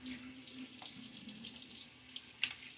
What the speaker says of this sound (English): Okay, we're going to do a rinse.